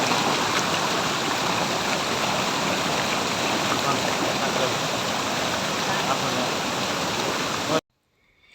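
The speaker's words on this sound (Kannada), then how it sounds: "ಇನ್ನು ಈ ಫಾಲ್ಸ್ ಹೆಸರು ಗುಂಡಿ ಫಾಲ್ಸ್ ಅಂತ." Gundi Falls near Sakaleshpur, Karnataka, pours as a loud, steady rush of water close by, a continuous roar that cuts off abruptly near the end.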